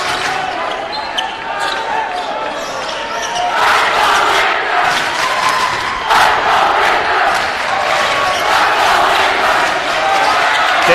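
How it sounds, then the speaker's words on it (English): Rival cheering sections at a high school basketball game in a gymnasium build into loud crowd noise and shouts, with a ball bouncing on the court and a voice talking over the din. "Both teams cheering sections making a little noise."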